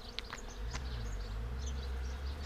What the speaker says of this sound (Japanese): すごい、蜂がすごいです